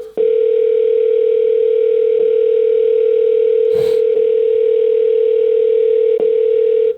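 A steady, unbroken electronic call tone plays loudly through a HAVIT E5 waterproof sports Bluetooth speaker while a phone call is placed, with two brief clicks partway through and no voices.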